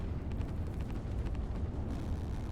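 A rocket in flight in the strategy video game Line War gives a low, continuous rumbling roar, steady and moderately faint, with no speech.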